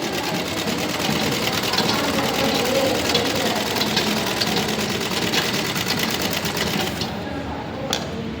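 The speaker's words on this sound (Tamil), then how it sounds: "உள்பக்கமாக ஒரு படிமான தையல் கொடுத்துட்றீங்க" A sewing machine stitches a blouse seam in a fast, steady mechanical whir with rapid needle clatter that runs without pause, close by, and a brief click near the end.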